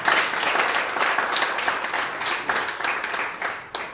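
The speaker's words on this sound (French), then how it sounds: "Je voudrais vraiment qu'on l'applaudisse." Crowd applause at a Rotary club induction ceremony in Parakou, honoring the club president, a dense steady patter of many hands clapping that holds for several seconds and fades slightly toward the end.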